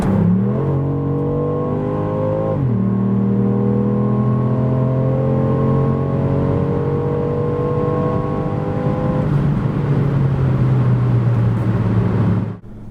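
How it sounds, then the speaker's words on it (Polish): Ford Puma ST 2024 with the 1.0 turbo petrol engine and Powershift automatic at full throttle: a loud, steady engine drone climbing in pitch, dropping briefly at gear changes, then easing off near the end, heard from inside without talk. "przyspieszanie tym samochodem z gazem w podłodze"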